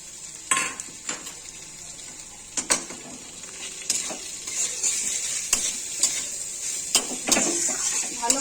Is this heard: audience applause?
no